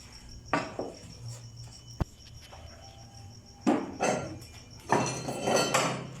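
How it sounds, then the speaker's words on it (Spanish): A hand brush scrubs excess flux and slag off a fresh basic weld in a workshop, in several short bristly strokes with a sharp metallic tap between them, close and moderately loud with no talking. "con el cepillo vamos a retirar el exceso"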